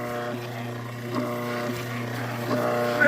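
An engine runs steadily after an injection pump repair, a continuous droning hum with strong harmonic tones that swells slightly louder toward the end, heard alone without talk.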